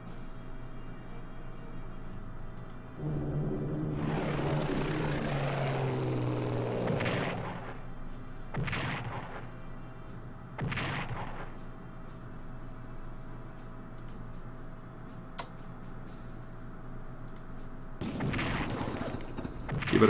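Aircraft bombing strikes in the Strategic Command World at War strategy game land as a long, roaring blast of about three seconds, then two short sharp bursts and a later fourth hit, loud and close with no talk.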